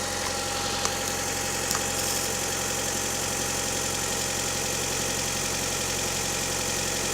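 A Honda Odyssey RA1 idles steadily through a 2.5-inch exhaust with a racing high-flow muffler, giving a constant close engine drone with a faint knock and a couple of small clicks near the start.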